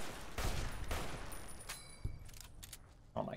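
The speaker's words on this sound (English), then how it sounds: "The little ping from the M1 Garand is just, such a good sound." Semi-automatic gunfire from an M1 Garand battle rifle in Fallout: New Vegas (Boulder Dome mod), a few sharp shots at irregular intervals over game ambience, one with a ringing metallic ping.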